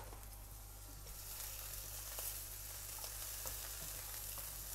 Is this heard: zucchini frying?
yes